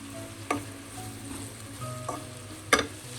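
Onions with salt are stirred in a hot pan, a low sizzle underneath with three distinct spoon scrapes and clacks against the pan, the loudest near the end.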